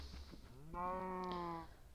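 A single cow in a Minecraft Bedrock farm gives a short, clear moo lasting about a second, faint and alone with no talk around it.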